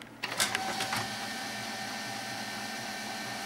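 An HP LaserJet P1102w printer powering on, with a few clicks and a brief whine followed by a steady mechanical hum that holds at an even level.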